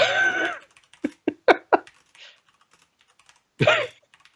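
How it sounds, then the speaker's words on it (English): A handful of sharp computer keyboard keystrokes, close and separated by quiet gaps, with brief talk from a man before and after. "you can hear me typing now because I'm looking up this quote"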